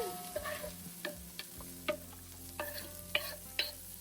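Onion cooks in a pan in a farmhouse kitchen, a soft sizzle under repeated sharp clicks and scrapes of a utensil stirring against the pan at an uneven rhythm.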